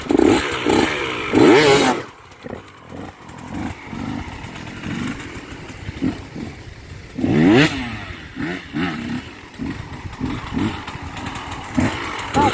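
Motorcycle engine revving hard as a rider works up to a wheelie, loud bursts of acceleration at the start and again midway, with lower idling and sputtering between, close by.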